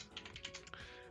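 Rapid clatter of typing on a computer keyboard, a close, quiet run of several distinct keystrokes in quick succession.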